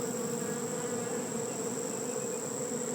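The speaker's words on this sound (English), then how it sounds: "These bees have no idea what they're doing." A disorganised swarm of bees buzzes continuously in a dense, steady drone, close and loud throughout.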